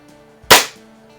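A Crosman 3100 break-barrel pellet rifle fires one sharp, close crack that decays quickly over a quiet background hum.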